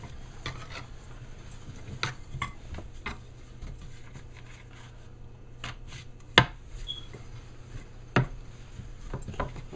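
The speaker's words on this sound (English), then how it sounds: "and then you roll it out" Roti dough being rolled out for Indian flat bread, a quiet run of soft knocks and taps from the rolling pin on the board, irregular and close, with a few sharper clacks and no voices.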